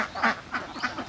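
Laying ducks on a duck farm quack in three loud, repeated bursts about a third of a second apart, close by, with no talk.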